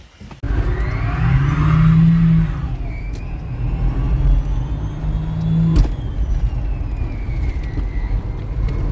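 A homemade electric car built with lift parts drives at speed, its motor whirring steadily with a rising and falling whine over road and wind rumble, close and continuous.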